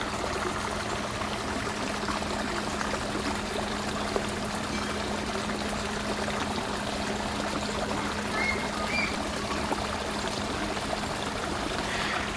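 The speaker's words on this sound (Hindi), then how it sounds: "थोड़ा पानी का शोर आप एंजॉय कीजिए।" Flowing water from a small stream in an autumn garden in Saskatoon, a steady continuous babble and trickle heard close by, with no talking.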